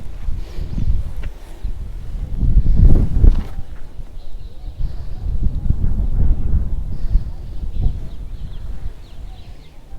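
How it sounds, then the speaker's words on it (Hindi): Wind gusts over the highest point of Bhangarh Fort in Rajasthan beside a thick stone wall, a steady low rumble buffeting close to the microphone with a stronger surge near the third second and faint rustling throughout. "ये हवा चल रही है जी।"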